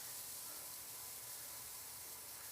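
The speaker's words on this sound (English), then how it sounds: "you can hear that steaming." A pan steaming while a truffle pop mixture cooks, giving a steady, broad hiss that holds at an even level throughout with no talk over it.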